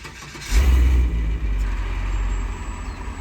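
A 2007 GMC C5500 Venturo HT40KX crane utility truck's engine rumbles close by, with a deep surge early on that settles into a steady, heavy diesel-like idle.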